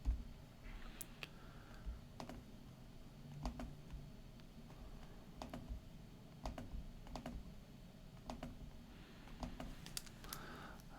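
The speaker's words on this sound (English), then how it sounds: "So we'll type that in." Keys on a computer keyboard are tapped at a slow, uneven pace, each click faint and close, while someone enters figures into a calculation.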